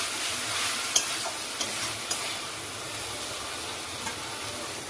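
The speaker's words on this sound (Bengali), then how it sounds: "আমার মশলাটা খুব ভালোভাবে কষানো হয়ে গেছে" Spice paste with ginger and garlic fries in a pan and is stirred, giving a soft, steady sizzle with a few light scraping clicks from the utensil. It is quiet and close.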